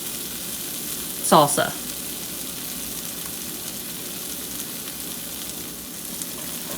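A low-carb quesadilla with taco seasoning sizzles softly and steadily in a pan while its cheese melts, and a voice briefly speaks a word over the frying.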